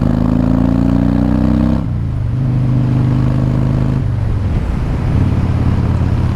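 A 2014 Harley-Davidson Breakout FXSB motorcycle pulls hard in third gear from about 50 mph, its loud, steady engine drone rising in pitch, then dropping briefly before climbing again, close and continuous with no talking.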